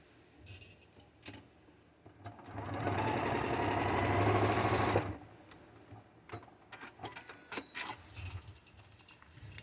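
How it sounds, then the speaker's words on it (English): A sewing machine stitching foundation paper piecing runs in one loud, steady burst of about three seconds, with quieter handling clicks and rustles before and after. "I'm going to fold that over, rest it down, and stitch."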